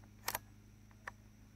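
The bolt hold open on a Rossi RS22M semi-auto .22 Magnum rifle releases with a quick double metallic click, close and fairly quiet, followed a moment later by a fainter single click in a quiet room.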